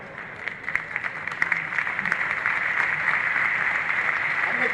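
An audience at the Madhya Pradesh auto expo applauds steadily, a dense, sustained clapping that swells slightly and continues unbroken, with speech faintly underneath.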